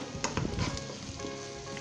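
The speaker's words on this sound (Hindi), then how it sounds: "जस्ट हमने 10 सेकंड के लिए इसे मिक्स करते हुए भूनना है मसाले को" Onion, ginger and spices sizzle in hot oil in a pan as they are stirred, a steady close frying hiss broken by scraping knocks of the spoon, with no talking.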